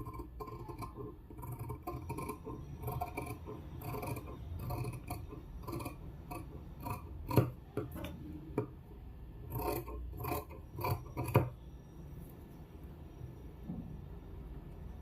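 Scissors snipping through fabric being cut along a drawn line, a series of close, crisp cuts and rasping slides in an irregular rhythm that fade out toward the end.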